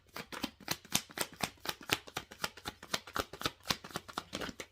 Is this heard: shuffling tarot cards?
yes